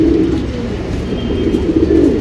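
A female Badam pigeon with Rekdhar markings coos close by, a loud, low, continuous throaty rumble that fills the whole stretch.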